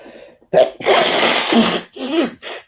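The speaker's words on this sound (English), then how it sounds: "I've been feeling that sneeze coming for ages" A loud, close sneeze bursts out after a short sniffly intake of breath, with a couple of trailing breathy gasps.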